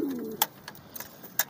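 A pigeon that has laid eggs before coos softly in a short, faint call at the start, followed by a few brief clicks and taps.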